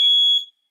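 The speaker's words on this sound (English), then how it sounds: "the smoke alarm has triggered." A shrill, high-pitched electronic beep from a smoke alarm sounds once, loud and close, then cuts off abruptly.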